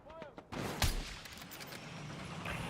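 Artillery strike in a video game battle: one sharp, heavy impact with a deep boom about a second in, over a steady wash of distant battle noise.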